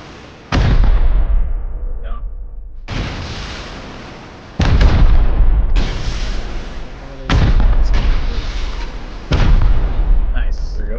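Rocket launcher blasts in the video game Rust, fought on a snow server: four or five loud, booming explosions, each a sudden broadband crash that decays over a second or two, spaced a couple of seconds apart.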